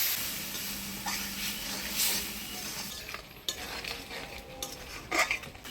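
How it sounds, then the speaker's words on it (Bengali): Ground spice paste with turmeric, salt and a little water being stir-fried in a pan, with a soft sizzle under repeated scraping and clinking of a spatula against the metal pan. "মশলাটা ভালোভাবে কষিয়ে দেবো।"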